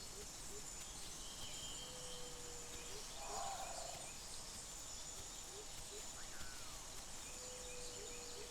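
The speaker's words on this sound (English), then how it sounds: "shut that stupid bird up." A bird gobbles like a turkey in a survival video game set in the rain, one short gobbling call rising midway over a steady hiss of rain and ambient game noise.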